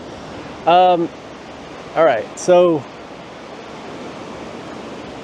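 Ocean waves wash onto the shore in a steady, broad rushing hiss that runs throughout. Someone speaks briefly in a few short bursts over it.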